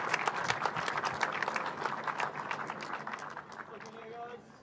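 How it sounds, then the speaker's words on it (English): Crowd in Victory Lane at a New Zealand motor racing championship claps for the race winner, a brisk patter of distinct hand claps from a modest gathering, fairly quiet and distant, thinning out toward the end as a few tones ring faintly. "Ladies and gentlemen, be loud in your applause"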